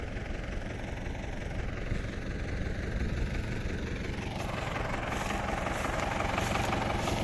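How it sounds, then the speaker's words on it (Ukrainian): A diesel tractor engine idles steadily during field ploughing with a rapid, knocking chug and rattling vibration, loud and continuous throughout, with no voices. "Так трактор говорить."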